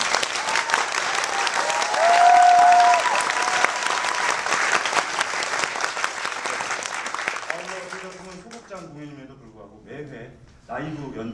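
Theatre audience applauding at the curtain call of the final performance of the Korean stage show Kongchilpal Saesamryuk, loud sustained clapping with cheers and a whistle, fading after about eight seconds as voices and musical notes come through.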